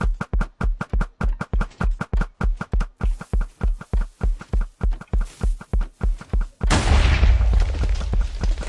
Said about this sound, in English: Why don't you try the TNT cannon once again?